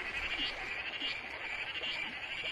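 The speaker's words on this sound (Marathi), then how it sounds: "पावसाला संगीत द्यायला बेडूक प्रजातीही सज्ज झाली." Frogs croak steadily on a rainy monsoon night in the Konkan countryside, a dense continuous chorus with faint rhythmic pulses beneath it and no speech.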